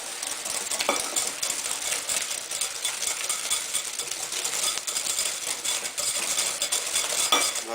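Far breton batter being whisked with a wire whisk after the eggs are added, a steady dense scraping and clinking against the bowl that runs continuously and fairly close, with no talking.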